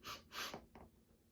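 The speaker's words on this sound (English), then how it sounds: "Take quick little bunny breaths in through your nose" A few quick, breathy sniffs are drawn in through the nose in fast succession, close and soft, with no talking.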